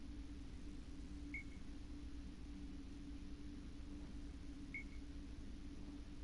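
Two short electronic beeps from a device in the Dreamfall Chapters video game, spaced a few seconds apart and fairly faint over a steady background hum and hiss.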